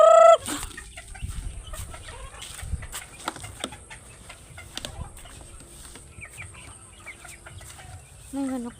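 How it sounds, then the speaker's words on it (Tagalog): Brahma chickens clucking close by in a farmyard, short scattered clucks and squawks with soft rustling between them, plus a brief louder burst at the start and end. "Ito po yung aking mga Brahma chicken."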